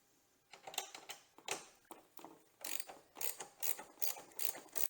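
Ratchet loosening T30 bolts on a Ford Bronco front end, with quiet clicking pawl bursts in short uneven strokes that grow into a faster, louder, regular ratcheting rhythm, close up and with no speech.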